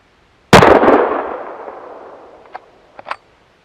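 A single loud, close gunshot from a .458 Lott bolt-action rifle, a cartridge meant to match the 450 Nitro Express, cracks sharply and rolls into a long fading echo, followed by a few faint clicks and knocks.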